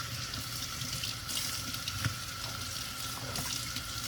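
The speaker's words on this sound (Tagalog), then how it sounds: "hugasan muna natin itong ating orchid. I-rinse lang natin." Kitchen tap running steadily as an orchid is rinsed under the stream, a constant close splashing hiss of water with no voices.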